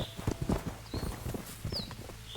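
Horse hooves clip-clop quietly in Kingdom Come Deliverance 2, a quick irregular run of soft thuds from a ridden horse at moderate distance, with faint chirps in the background.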